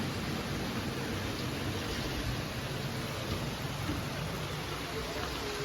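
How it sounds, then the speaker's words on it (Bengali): Steady, dense hiss of rain falling, even and unbroken throughout, with no voices standing out. "এর মুহূর্তে এমন বৃষ্টি নামছে"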